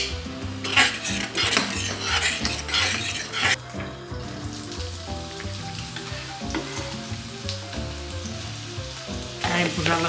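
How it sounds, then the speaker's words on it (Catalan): Chopped onion fries in a pan with a steady broadband sizzle, accompanied by occasional utensil clinks and a continuous musical backing throughout. "Ara hem posat la ceba i l'hem d'anar vigilant bastant perquè aviat és d'hora."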